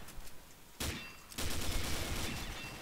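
Bursts of automatic gunfire from the online shooter Combat Arms: a short volley, a brief lull, then sustained rapid firing that carries on to the end, loud and close with no talk over it.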